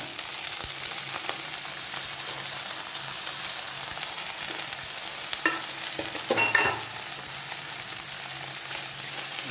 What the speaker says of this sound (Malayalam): അതിനായിട്ട് അല്പം എണ്ണ ഒഴിച്ചു അരിഞ്ഞു വെച്ചിരിക്കുന്ന കോവയ്ക്ക് ഇട്ട് കൊടുക്കാം